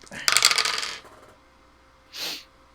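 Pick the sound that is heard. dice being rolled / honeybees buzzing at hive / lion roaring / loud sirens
dice being rolled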